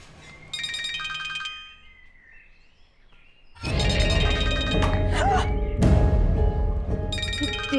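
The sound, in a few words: mobile phone ringtone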